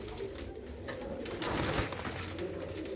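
Pigeons coo softly and continuously at close range, a low murmuring drone with a slightly louder stretch midway through.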